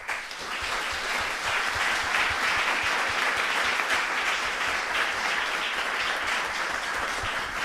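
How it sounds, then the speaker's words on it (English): A conference audience gives sustained, steady applause throughout, dense and even, from a room full of attendees at a programme review on clean hydrogen. "I would like to give a round of applause again to my team"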